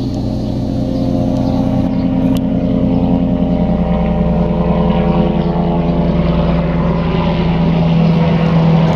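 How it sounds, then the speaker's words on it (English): A news helicopter passes overhead with a steady droning rotor and engine hum that holds loud and even throughout, alone with no talk. "Might have been a news copter."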